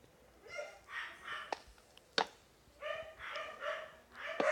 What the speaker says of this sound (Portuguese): vocês verem a latideira do caramba. Você é meus cachorros.